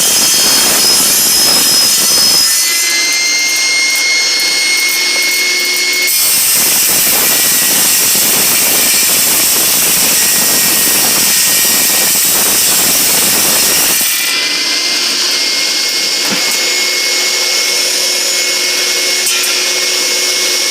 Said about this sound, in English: I'm using a regular carbide tip wood blade to cut the aluminum.